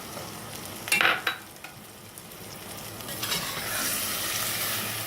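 A spoon stirs green peas into a frying tomato mixture in a pan, giving a couple of scraping strokes near the one-second mark, then a steady soft sizzle that swells slightly toward the end.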